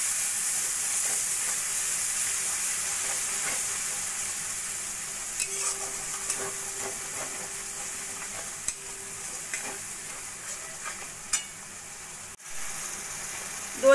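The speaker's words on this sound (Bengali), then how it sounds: "টক দইটা দিয়ে মশলার সঙ্গে ভালো করে কষিয়ে নেব" Whisked curd fries with spices in a pan, giving a steady soft sizzle with scattered spoon scrapes and stirring clicks, close and fairly quiet, no talk.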